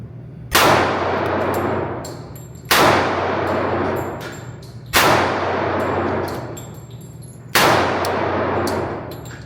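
Springfield TRP pistol firing four evenly spaced shots, each a loud sharp crack with a long ringing decay, outdoors with no talking.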